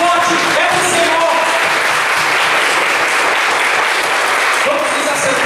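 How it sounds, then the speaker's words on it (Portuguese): Loud congregational applause at a church worship service fills the whole stretch steadily, with scattered voices and calls woven through the clapping. "uma grande salva de palmas"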